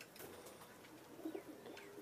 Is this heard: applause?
no